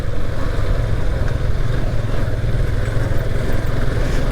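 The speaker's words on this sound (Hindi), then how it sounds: "बस ये बाइक कहीं से भी निकल जाती है" A motorcycle rumbles steadily along a rough mountain track on the ride toward Kedarnath, its engine drone loud and continuous with dense low-end buffeting throughout.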